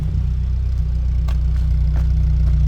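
A Peugeot 205 1.6 XL automatic engine idles smoothly nearby, a steady low hum with a few faint clicks over it, with no rough idle.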